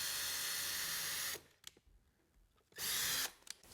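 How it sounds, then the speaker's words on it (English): A power drill bores pilot holes into a metal exterior door, two loud sustained bursts of whirring separated by a brief quiet pause with small handling clicks. "because this is a metal door, I'm going to pre-drill some holes into it."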